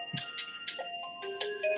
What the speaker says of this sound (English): And this is my phone, and I try to ignore